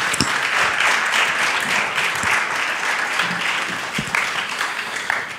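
A church congregation claps steadily for several seconds in a worship service hall, a dense, even patter of many hands without pause.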